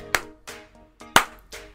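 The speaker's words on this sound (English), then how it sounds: "Sarcastic clap." Slow, deliberate hand claps, four of them close up and spaced about half a second apart, with the louder claps first and third and no talking over them.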